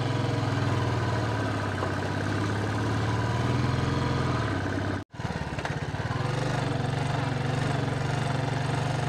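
A motorcycle engine labours in first gear on a steep climb to a high-altitude monastery near the Tibet–China border, droning steadily and loudly, with a brief cutout midway before the strained hum resumes.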